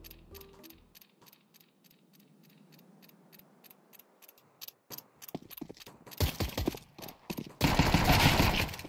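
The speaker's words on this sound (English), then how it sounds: "It forces the cheater's Glock to continuously alternate between single and burst fire modes" Pistol shots from a Glock in the shooter game CS2, firing in an uneven alternation of single shots and short bursts, sharp clicky reports repeating through the first half, then louder dense crackling bursts near the end.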